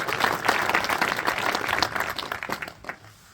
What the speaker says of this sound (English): I just want a big round of applause for doing that